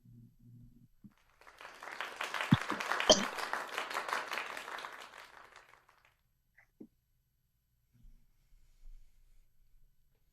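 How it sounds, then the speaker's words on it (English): A small group applauding in an online teen acting class: a quiet burst of clapping swells for about four seconds and then fades out, followed by faint scattered noises and near silence. "I'm going to get you guys a round of applause here"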